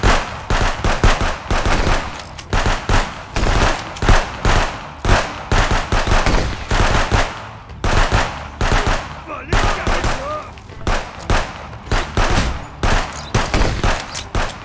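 Rapid bursts of automatic gunfire crackle almost continuously during an attack in the border-patrol game Contraband Police, loud and dense, with a voice shouting in alarm between the volleys.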